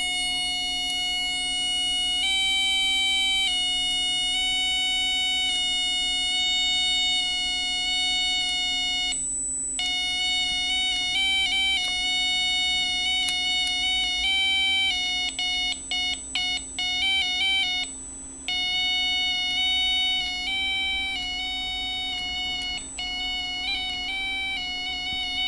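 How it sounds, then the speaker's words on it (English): A homemade Forrest Mims toy organ with four switches plays untuned electronic tones: shrill, buzzy beeps that switch abruptly between a few pitches over a constant hum, sustained and fairly loud with no talking. "This is the toy organ by Forrest Mims, but I only used 4 switches instead of 7"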